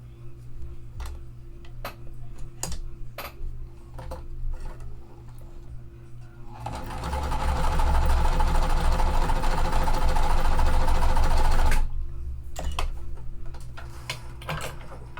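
Sewing machine stitching quilt pieces, a loud steady rapid whir for several seconds, preceded and followed by quiet ticking and clicking while the fabric is handled.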